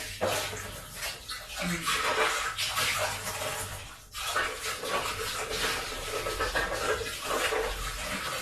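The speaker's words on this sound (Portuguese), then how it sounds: "ela deixa a torneira ligada o tempo todo" Water runs steadily from an open kitchen tap during washing, a continuous broadband rush with small splashing changes that carries on without pause and sounds close.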